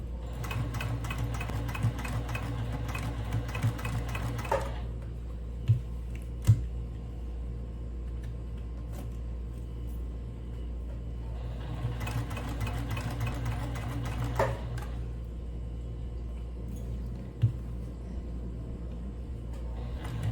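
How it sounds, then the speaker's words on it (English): A sewing machine stitches a side pocket onto a fabric tote bag in two steady runs, a steady mechanical whir with a faint ticking rhythm, starting and stopping with a quiet pause between them. "As you can see, I finished sewing the side pocket to the"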